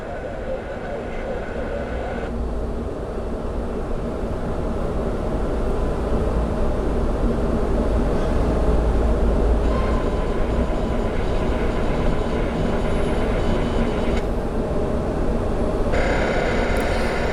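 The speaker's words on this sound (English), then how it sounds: "on the closer runway, we have a Frontier A320neo. Looks like it's going to be taking off." Frontier Airbus A320neo jet taking off from a runway at Orlando International Airport, a broad steady engine roar heard from a distance that builds and stays loud throughout, with faint voices underneath.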